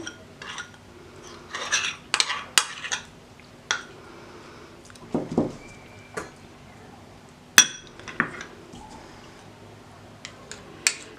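Clinking and scraping of a utensil against a bowl of chocolate cake batter in irregular bursts, with a soft squishy stir in between, close up.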